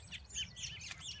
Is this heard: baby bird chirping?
yes